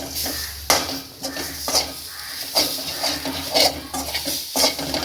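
Masala for a Hogenakkal-style fish curry sautés in a pan, with close, steady frying sizzle broken by regular scraping strokes of a spoon against the pan, about one each second.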